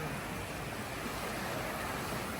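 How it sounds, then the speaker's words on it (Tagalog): Sea waves washing in along a Philippine shore, heard as a continuous, broad rushing surf with wind buffeting the microphone, steady and fairly loud with no speech. "Yung wagaswas ng dagat."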